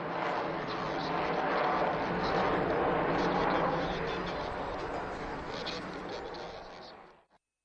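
A large aircraft roars overhead at a British airshow, a broad loud engine rumble that holds steady, then slowly fades and cuts off near the end.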